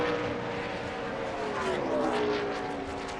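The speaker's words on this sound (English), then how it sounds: "He drives into turn 1. Car is way loose on corner entry." A NASCAR stock car in practice drives into turn 1 loose on corner entry, a loud continuous engine roar with shifting pitch as it runs through the corner, steady throughout with no talk.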